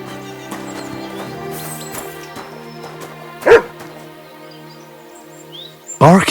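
Dog barks in the Kingdom Come: Deliverance 2 video game, two loud, sharp barks several seconds apart over a quiet outdoor ambience with sustained music tones.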